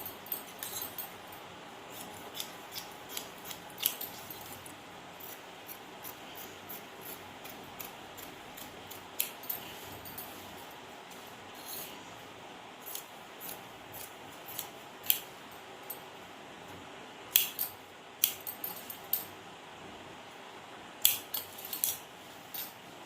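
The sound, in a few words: cutting blouse fabric with scissors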